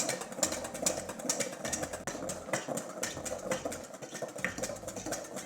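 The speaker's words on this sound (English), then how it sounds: "Now you've got to constantly whisk this as fast as you can." Eggs are whisked fast in a metal bowl set over a pan, a rapid, busy clatter and scrape of the whisk against the bowl, close and continuous without pause.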